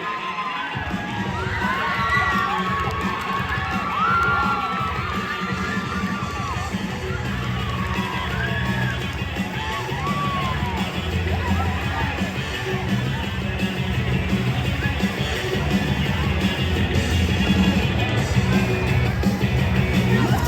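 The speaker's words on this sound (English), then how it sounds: "myself, Zach, Mason, Trevor, and Alex, give yourselves a big round of applause!" A concert crowd at the No Hate Tour keeps up a loud, steady roar of cheering, with shouts and whoops rising throughout and a thick wash of voices for the whole stretch.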